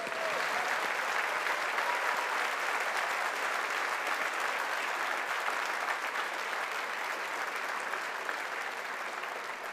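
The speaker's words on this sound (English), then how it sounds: "let us conclude by again giving these graduates a big round of applause" Sustained, steady applause from a large graduation ceremony audience honouring the graduates, a dense even roar of many hands clapping for nearly ten seconds.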